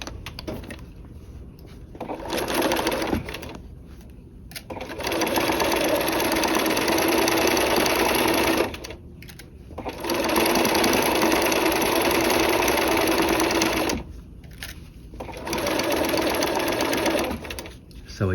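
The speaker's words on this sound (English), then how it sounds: "Now sewing the other seam, we're heading in the opposite direction" A sewing machine stitches a seam on a dual flap pocket, running in long steady whirring bursts of several seconds each, separated by brief pauses, close and fairly loud.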